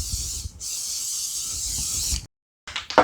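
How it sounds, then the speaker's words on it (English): Cooking spray hisses onto a waffle maker in two close bursts, a short one and then a longer steady spray, followed by a pause and a couple of quick final spurts. "I'm just going to spray my waffle maker with a little bit of cooking spray"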